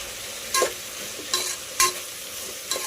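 Broad bean curry stirred in a pan, with four distinct spoon scrapes spaced about a second apart over a soft, steady background sizzle.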